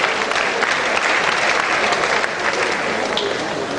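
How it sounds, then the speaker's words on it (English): Sustained audience applause at a university professionalism workshop, steady dense clapping from a large crowd that holds at an even level throughout without a break. "Please let's give Mr. Magui another round of applause."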